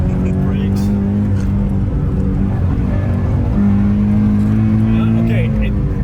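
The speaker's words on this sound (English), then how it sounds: "Second gear, full flat foot down, brakes." Toyota GT86 engine pulling hard in second gear on a wet road, a steady loud drone rising in pitch, with someone talking over it throughout.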